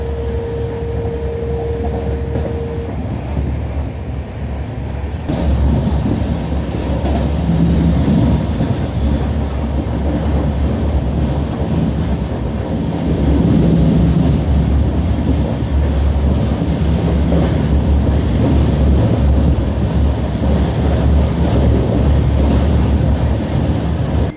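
Passenger train running on the rails, heard on board over a long Indian rail journey: a loud continuous rumble with rhythmic clickety-clack of the wheels that grows louder partway through.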